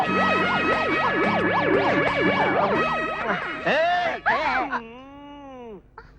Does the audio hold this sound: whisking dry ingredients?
no